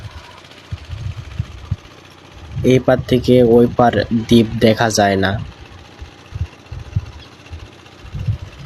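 Boat engine running on a river crossing toward an island, a steady low mechanical drone throughout, partly under someone speaking in the middle.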